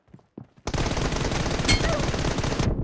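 Loud, close automatic gunfire in the mobile game PUBG Mobile: a couple of short taps, then one sustained rapid burst lasting about two seconds before cutting off.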